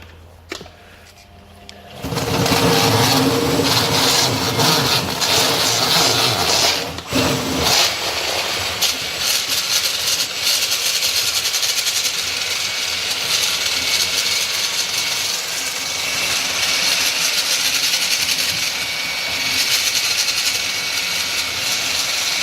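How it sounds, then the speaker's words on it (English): A Mini Cleaner high-speed pipe cleaning machine spins up inside a toilet pan connector, starting with a sudden jump to a loud, harsh whirring rattle that holds steady and close for about twenty seconds, with no talking. "Terry's about to spin it up inside the pan connector."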